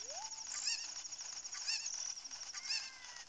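A Cucco chicken from Ocarina of Time 3D squawks in the game, three loud shrill honking cries spaced about a second apart over a constant electronic background hum.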